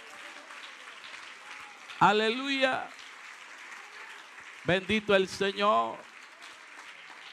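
A church congregation claps for the Lord during a Spanish-language sermon, a steady wash of applause running throughout while someone speaks over it in two short bursts.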